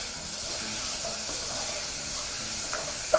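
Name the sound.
beef sizzling while being stirred in a pan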